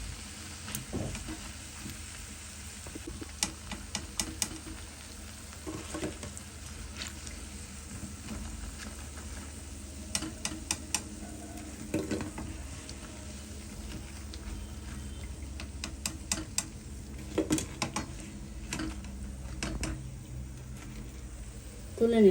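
Round potato pakoras fry in a pan with a soft, steady sizzle broken by scattered clicks and stirring taps throughout.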